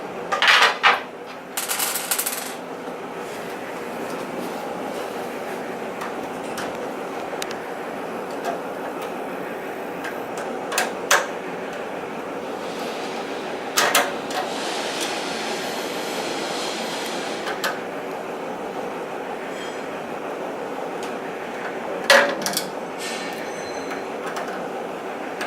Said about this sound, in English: make sure that you don't mistakenly put your hands into the embossing machine as it's going